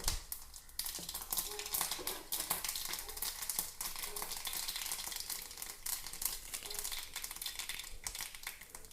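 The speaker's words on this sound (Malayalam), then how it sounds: "ചട്ടി വെച്ചിട്ടുണ്ട് എണ്ണ ഒഴിച്ചിട്ടുണ്ട് എണ്ണ കാലിട്ടുണ്ട് അല്പം കടുക് പൊട്ടിക്കാം" Mustard seeds spluttering and popping in hot oil in a pan, a dense, steady crackle of rapid pops that runs the whole time with no talk.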